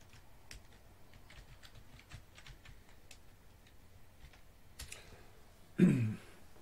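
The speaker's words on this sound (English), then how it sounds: "Let me just type this." Typing on a computer keyboard, a steady run of light clicks and taps at close range, ending with a slightly louder clatter, with no talk over it.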